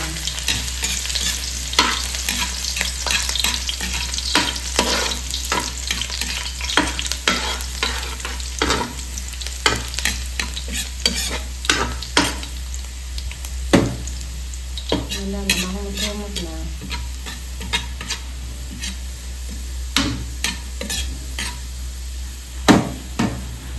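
Garlic, onion and bell pepper sautéing in a pan, a steady sizzle broken by frequent scraping and clinking of a utensil stirring against the pan, close and without talk.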